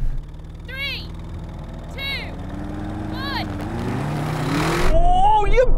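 An Audi RS7, BMW M8 and AMG GT63 in a drag race rev and accelerate, an engine drone rising steadily in pitch and loudness toward a roaring surge, with people talking over it.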